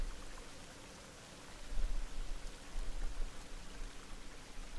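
Rain falls steadily in the survival video game The Forest as night comes on, a soft continuous patter at low volume with a slightly heavier stretch partway through.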